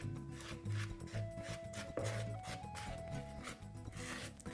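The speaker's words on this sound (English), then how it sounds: "And you want to scrape all this in." Spatula scraping a homemade custard mixture into hot milk in a bakery kitchen, a close steady rubbing scrape with a low hum running underneath.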